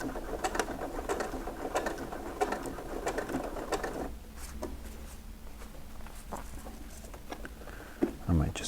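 A sewing machine pushes slowly through four thick folds of a reinforcing patch on an ultralight single-walled tent, giving soft uneven mechanical patter with some talk over it and a sharp knock near the end.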